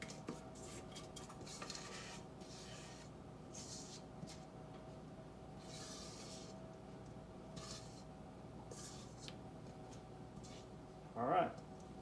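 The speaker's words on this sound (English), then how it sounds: "I can use my spoon or my spatula just to scrape out the sidewall." A spoon or spatula scrapes pecan pie mixture from the sides of a bowl, repeated soft scraping strokes at a fairly quiet level, ending with a brief clink.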